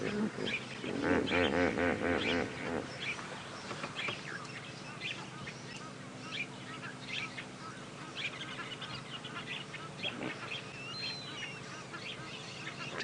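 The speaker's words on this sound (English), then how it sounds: "A lot of hippo activity around. You can hear them actually communicating with each other now." Hippos calling to one another at a dam in the early morning bush, deep grunting honks carrying over the water amid chattering birds, loudest near the start and fading to a steady distant background.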